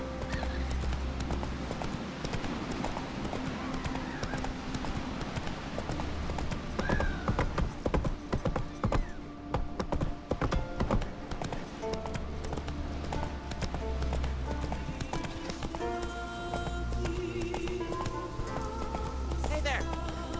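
Roach, a horse in The Witcher 3, gallops with steady clip-clop hoofbeats running through the whole stretch, mixed with a continuous game music and ambience bed and occasional whinnies, fairly loud and close throughout.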